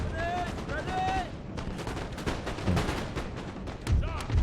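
Musket volleys from line infantry in Napoleon: Total War crackle and boom in a dense, continuous barrage of overlapping shots, with a voice speaking briefly over the din.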